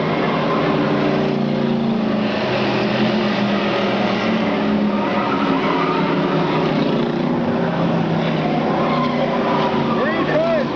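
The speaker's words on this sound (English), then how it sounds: "Three cars vying for the win right now." Stock cars racing on a track in 1996, with three cars battling for the win in the final laps. Engines drone steadily and loudly throughout, with commentary spoken over the racing.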